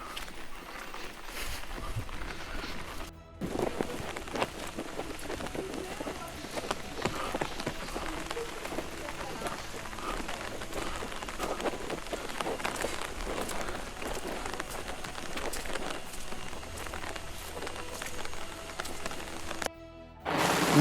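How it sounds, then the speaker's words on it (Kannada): Heavy rain pours steadily onto surfaces around a house, a broad continuous patter with scattered heavier drops, with faint talk now and then. "ಮಳೆ ಬರ್ತಾ ಇದೆ, ಜೋರಾಗಿ ಬರ್ತಾ ಇದೆ"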